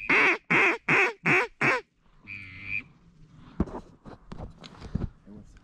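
At an ice hole with mallard decoys during a duck hunt, five loud, evenly spaced quacks sound close by, followed by a softer call and quieter shuffling noises and murmuring.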